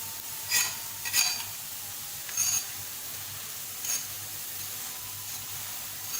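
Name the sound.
lachha paratha cooking on a pan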